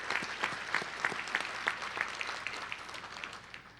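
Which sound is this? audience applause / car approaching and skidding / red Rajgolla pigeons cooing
audience applause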